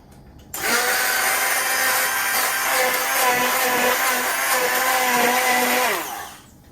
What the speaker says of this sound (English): I'm going to use this stick blender to blend the soup.